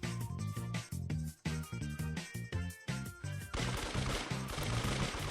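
Rapid bursts of video game gunfire in a one-on-one shootout, loud and close, with quick repeated shots and brief gaps before a sustained stretch of dense firing.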